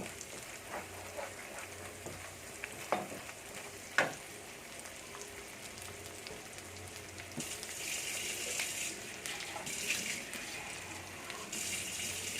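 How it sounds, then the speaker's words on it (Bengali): Spices sizzle and fry in a pan for a fish curry as water is added, a steady soft hiss with a few sharp pops and clatters, then a brighter rushing sizzle building later. "এই পর্যায়ে আমি একটু পানি দিব, কারণ এখানে মশলাটা যেন পোড়া না লাগে"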